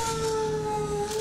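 A steady electronic alarm tone in the video game Black Mesa drones on without a break, loud and unchanging throughout.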